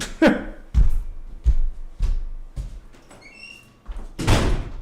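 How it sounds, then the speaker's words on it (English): A door thumps shut several times in quick succession with squeaky creaks between, ending in a louder closing bang. "I didn't close that door though."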